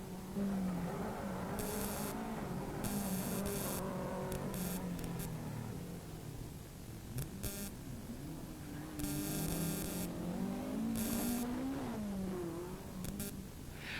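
A Vauxhall Chevette rally car runs a stage of the 1983 West Cork Rally, its faint engine rising and falling at a distance beneath a steady hum and some bursts of noise.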